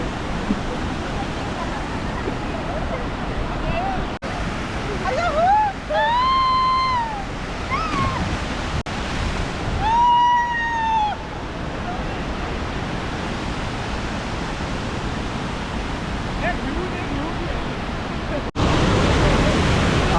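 Strong, forceful water rushing at a dam, a loud steady roar filling the whole clip, with a few brief voiced calls and shouts rising over it.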